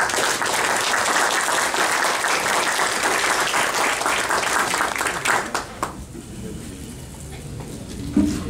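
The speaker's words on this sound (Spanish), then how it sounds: "Recibamos con fuerte aplauso del ingeniero Javier Muro." A seminar audience gives loud, dense applause to welcome an engineer to the podium, a thick continuous roar of clapping that fades out over the last few seconds, leaving a quieter room with a few stray sounds.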